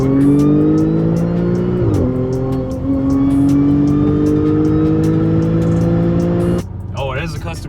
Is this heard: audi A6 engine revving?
yes